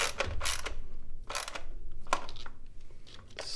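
A ratchet snugs down valve cover bolts on a Mini Cooper engine, producing quick clicking pawl bursts in several short runs, close and clear over a low steady background.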